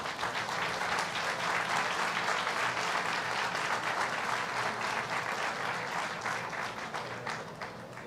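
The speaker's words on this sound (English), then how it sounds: "stand up and receive a round of applause" An audience at a governor's construction milestone event for the JFK airport transformation gives a long round of applause, many hands clapping densely and loudly, then gradually thinning near the end.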